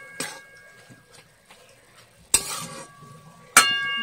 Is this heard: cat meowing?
no